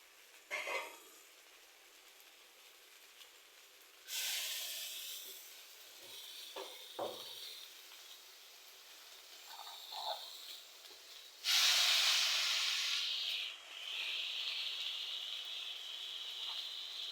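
Ground fresh green chili paste with dried shrimp frying in a pan gives a soft, near hiss that swells into louder sizzling bursts at several points, with faint stirring taps between them and no talking.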